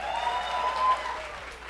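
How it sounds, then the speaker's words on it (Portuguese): A conference audience at a developers' event gives a short round of clapping, fairly even and moderately loud, with faint tonal hums underneath. "palmas pro Caio"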